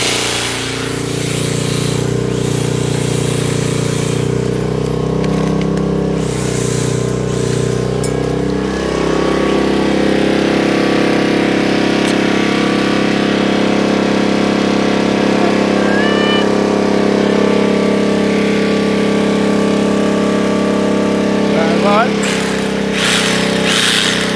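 A portable generator running a home manual transfer switch setup gives a loud steady engine drone with a shift in pitch partway through, and someone talks over it.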